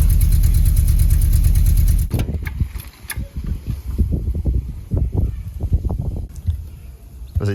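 A VW Golf MK2 GTI with the 8V engine runs rough, a loud low steady drone that drops into an uneven, lumpy idle with irregular pulses and knocks from a shaking exhaust.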